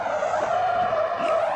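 A Damas car in a video game brakes hard at full speed, and its tires give one continuous, loud, high squealing skid that lasts throughout, with no voices.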